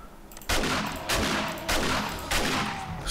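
Shotgun blasts in the zombie survival game 7 Days to Die, four loud broadband booms spaced roughly every half second to second, each with a short decaying tail, no talking.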